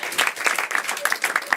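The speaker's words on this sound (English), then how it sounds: "Clap for yourselves, everyone." A live studio audience claps for itself at a game show, a dense patter of hands in steady bursts with a few whistles over the top.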